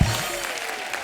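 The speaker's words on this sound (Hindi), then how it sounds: "जोरदार तालियां हो जाए।" Hearty applause from a studio audience at a Hindi comedy talk show taping, a brief loud burst that stays steady for about a second.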